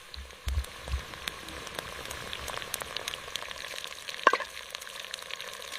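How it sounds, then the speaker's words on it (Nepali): Onions with bay leaf, cinnamon, cardamom, cloves and black pepper frying in hot oil and ghee for a village biryani, a busy crackling sizzle throughout, with a couple of low thumps near the start and a sharp clink later. "अब तेल र घिउ तताएर तेजपत्ता, दालचिनी, इलाइची, ल्वाङ, काली मिर्च हाल्छु।"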